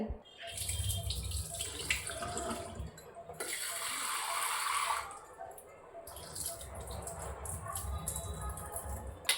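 Soaked lentils are rinsed and swished in a bowl of water while making gima greens fritters, with splashing and running water, a louder burst of pouring midway, and muffled handling noises around it.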